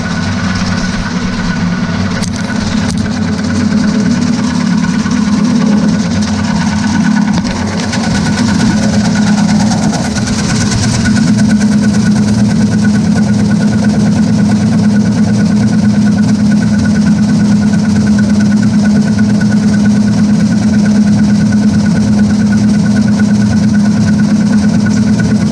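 Virtus Equipment A18-43 machine processing a thicker roll of white plastic wire, a loud continuous mechanical hum and rumble running steadily throughout with only slight variation.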